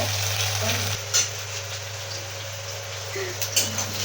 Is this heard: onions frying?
yes